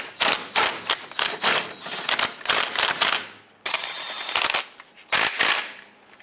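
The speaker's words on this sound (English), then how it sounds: "go ahead and snug up both the bolts" Starter bolts on a Jeep Liberty are snugged down with a ratchet, giving rapid bursts of loud clicking in short runs separated by brief pauses, close and alone.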